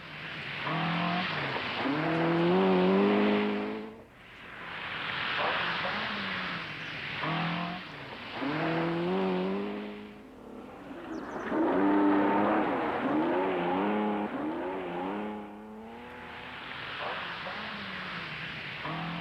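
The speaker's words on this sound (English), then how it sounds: "In the Lombard RAC Rally, Timo Salonen's 160J and Andy Dawson's sister car went well" Datsun 160J rally cars compete in the Lombard RAC Rally. Several loud engine passes rise and fall in sweeping revving pitches, each car roaring past and fading before the next arrives, with a commentator's voice underneath.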